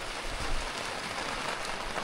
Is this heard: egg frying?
no